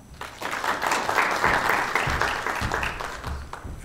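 Audience applause at a structural reforms panel in Konya as the panelists are introduced: a dense, steady wash of clapping from a sizable crowd that swells quickly and holds, easing slightly toward the end.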